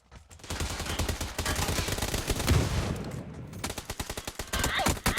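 Rapid bursts of gunfire in the video game PUBG, dense and loud for the whole stretch, with short pauses between volleys and a few sharper single shots near the end.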